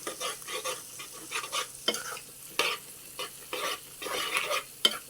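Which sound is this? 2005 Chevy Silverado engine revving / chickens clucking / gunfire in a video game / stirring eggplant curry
stirring eggplant curry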